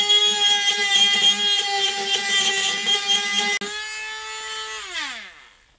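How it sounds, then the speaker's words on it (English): A small multi-tool whines loudly at a steady high pitch while cutting holes into hard plastic, then cuts free and spins down to a stop. "let's get out the multi-tool again"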